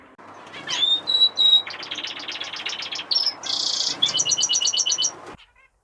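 Fife canaries chirping and trilling indoors in a breeding room, a close, lively run of bright whistles, rapid buzzy trills and repeated chip notes that fills nearly six seconds before stopping abruptly.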